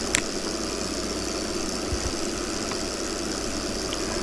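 A tractor engine idles steadily in Farming Simulator 2015, a continuous low mechanical hum with faint vibration and no talking.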